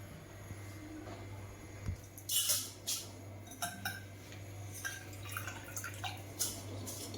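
Water sloshes and drips as rice is rinsed by hand for anarse, with gentle splashes and light clinks over a low steady hum.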